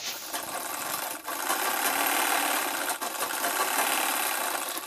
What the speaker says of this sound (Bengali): কোমর পাট্টিটাকে এইখানে উপরে আমি সেলাই করে নিচ্ছি।